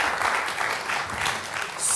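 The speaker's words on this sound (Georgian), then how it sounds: "აპლოდისმენტები თუ შეიძლება" A studio audience at a comedy game show breaks into applause, a loud, sustained burst of clapping that swells briefly near the end.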